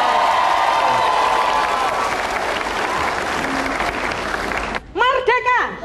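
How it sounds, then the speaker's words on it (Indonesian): An audience applauds steadily for about five seconds in a hall during an Indonesian political talk show, a dense sustained clapping that breaks off near the end as a voice begins speaking. "Kita tepuk tangan buat Ibu Mega Karti."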